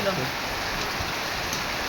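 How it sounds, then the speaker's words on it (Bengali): Midday thunderstorm rain falls in a steady, even patter on surfaces, with a voice briefly audible over it. "খুব সুন্দর বৃষ্টি হচ্ছে"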